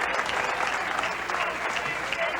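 A bowling crowd at a 1997 PBA touring players championship cheers and applauds, a dense continuous roar of clapping and shouting, loud and close throughout.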